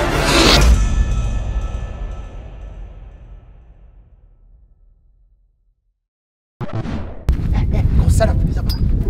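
A model rocket at a Tripoli launch event in southern France ignites with a sharp loud roar that quickly fades into a long decaying rumble, then silence, before wind noise and distant crowd sounds return.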